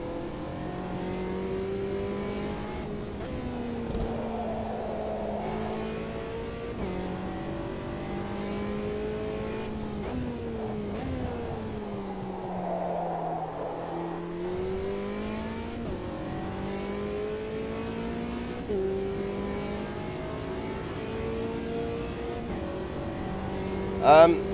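A race car engine in the Automobilista 2 racing game, on a beta build with updated tyre physics, revs up and down through gear changes and lifts, close and steady, with a brief sharper noise at the end.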